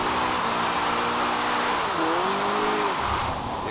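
An Abarth 124 Spider drifts uphill on an icy road in Forza Horizon 4, its engine holding a steady, loud drone with pitch sweeps as the revs dip and rise through the slide.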